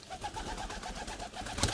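Pigeons at a nest softly coo in a steady, rhythmic series of low, muffled calls, close by and fairly quiet, with no talking over them.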